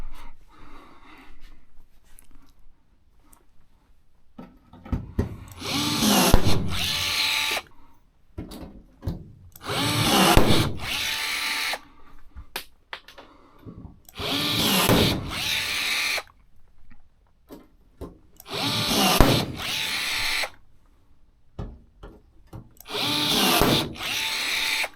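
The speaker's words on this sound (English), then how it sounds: "These rivets are coming out real nice." A pneumatic rivet gun hammers rivets into aluminum airplane wing skins in loud, rapid bursts of a few seconds each, separated by short quiet gaps, repeating five or six times.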